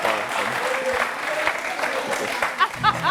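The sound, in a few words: audience applause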